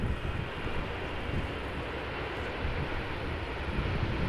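An Etihad Cargo Boeing 777 at Amsterdam Schiphol gives a dense, continuous roar of jet engines, loud and fairly near, holding steady throughout without voices.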